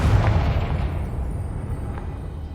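Confringo blasting spell in Hogwarts Legacy, a single booming blast at the start that rolls off into a fading rumble.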